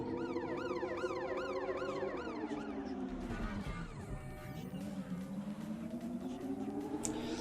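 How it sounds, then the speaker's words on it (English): Video game emergency vehicle sirens wail and yelp as they speed past, loud and continuous, the pitch sweeping and dropping as the vehicles go by amid traffic noise. "They all seem to put on their sirens when they go past me."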